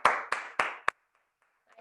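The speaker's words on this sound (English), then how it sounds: "Give yourself a round of applause" Four crisp hand claps in quick, even succession after a workout class, close and bright, the last one shorter, followed by near silence.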